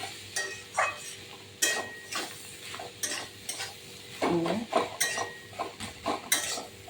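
Shredded cabbage with fish roe is stirred in a pan, the spoon scraping and clinking in repeated strokes over a low, steady sizzle close by.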